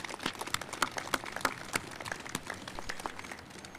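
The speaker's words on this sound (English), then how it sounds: "So let's just do one more round of applause for the amazing people that had a part in the ceremony." An audience applauds at a military change of command ceremony, a light spatter of scattered hand claps with a few sharper individual claps standing out, fairly faint and somewhat distant, with no speech over it.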